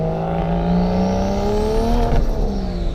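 A single-turbo BMW 335i accelerating hard from around 3,000 RPM, its engine note climbing steadily in pitch with a whirring turbo spool, loud and close throughout.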